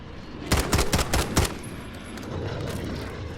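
A DMR rifle in Call of Duty Modern Warfare fires five or six sharp, evenly spaced shots in quick succession, loud and close, followed by a low rumbling ambience with no talking.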